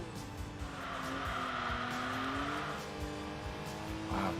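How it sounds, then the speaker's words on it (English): Honda NSX with a C-Series engine in the racing game Enthusia Professional Racing, revving high with a rising, sustained tone, up close and loud, joined by tire squeal. "Just listening to that C-Series engine sing."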